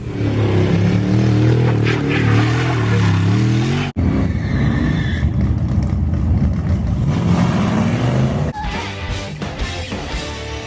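A Dodge D150 pickup with a factory 225 Slant Six and lockup automatic revving loudly up close, a heavy droning engine note with shifting pitch that changes character partway through.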